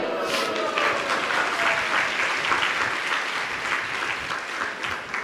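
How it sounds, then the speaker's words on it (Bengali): Loud, sustained applause from an audience at a religious discourse gathering, dense steady clapping filling the whole stretch without letup. "একটু জোরে হাততালি"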